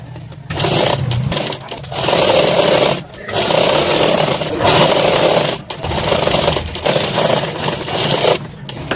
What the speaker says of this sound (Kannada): ಮೊದಲಿಗೆ ಸ್ಟಿಚ್ ಮಾಡ್ಕೊಂಡ್ಬಿಡ್ರಿ ಕೆಳಗಂದು.